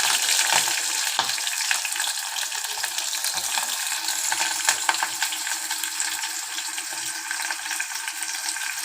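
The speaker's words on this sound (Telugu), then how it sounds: "అవి వేగిపోయాక ఉల్లిగడ్డ పచ్చిమిర్చి కొన్ని వేసుకోవాలి" Onion and green chili fry in hot oil while cooking a mutton fry dish, with a steady close hiss of sizzling throughout and occasional stirring scrapes, and no voices.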